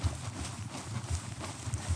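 Hooves of a horse clip-clop at a steady walk across open ground on a horseback ride in Mongolia, close and fairly soft, with a low rumbling background and no talk.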